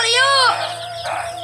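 Chicken clucking rises and falls in loud harmonic calls over the first half second, then fades into softer mixed noise with a steady low hum underneath.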